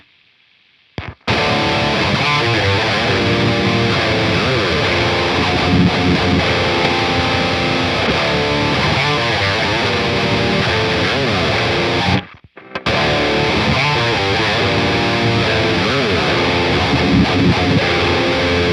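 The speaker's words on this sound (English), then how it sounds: "this brown sugar drive, which you can select different clipping modes with" Heavily distorted guitar through a Brown Sugar Drive distortion pedal plugin set to its different clipping modes, playing loud, dense riffs that cut out briefly near the start and midway before resuming.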